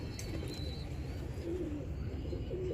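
A slate pigeon coos softly in low, rolling phrases, faint against a quiet background hum with a few light chirps, and no one speaking.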